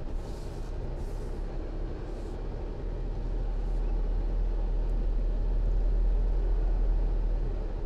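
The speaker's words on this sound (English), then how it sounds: "So now we're gonna back this into a pretty tight spot here, Mike" A 2019 Mercedes-Benz Sprinter 2500 crew van with a high roof backs slowly into a tight parking spot, its engine a steady low rumble that grows slightly louder partway through, with no voices.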